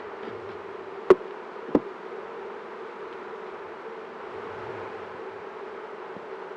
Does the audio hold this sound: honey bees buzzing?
yes